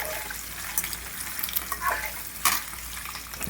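Eggs fry in a kadai with a steady soft sizzle and crackle, punctuated by a few brighter spattering bursts, heard close and alone without voices.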